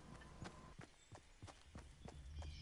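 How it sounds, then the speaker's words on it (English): Another player's footsteps in a video game, a regular series of about seven distinct thudding steps at a steady walking pace, moderately near against low background noise. "I hear his footsteps."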